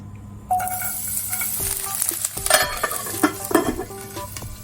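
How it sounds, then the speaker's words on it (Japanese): Shredded cabbage hits hot sunflower oil in a frying pan, bursting into a loud, steady sizzle with scattered clinks and scrapes of utensils against the pan, no voices. "油が温まったら細切りにしたキャベツを入れます。"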